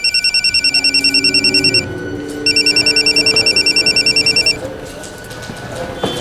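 A telephone rings with rapid electronic trilling pulses in two bursts separated by a short pause, loud and close, over a faint background hum.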